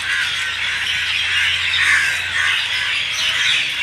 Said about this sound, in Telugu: కాకులు, సాయంత్రానికి గూడుకు చేరుకునే పక్షులన్నీ చూడండి ఎట్లా అరుస్తున్నాయో.